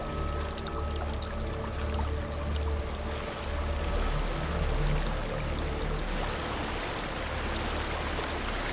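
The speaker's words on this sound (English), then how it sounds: "There's a waterfall." A waterfall in the video game Hellblade: Senua's Sacrifice pours in a steady, rushing wash of falling water, moderately loud and continuous, with a low background drone.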